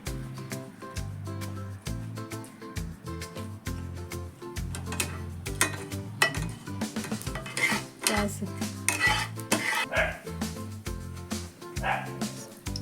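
Fenugreek seeds roasting in a little oil in a pan, with repeated metallic clinks of a spoon against the pan and sizzling under a steady background of music.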